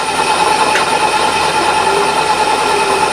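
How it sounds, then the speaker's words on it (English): A milling machine runs a 1/2 inch carbide end mill at 1000 rpm while machining a tool holder block, giving a loud, steady, continuous whine with a high tonal ring that never pauses. "1/2 inch carbide end mill,"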